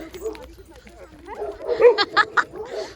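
Angry street dogs on a rainy evening walk in Uttarakhand, barking and yipping in short bursts, growing louder toward the end, with a person talking underneath.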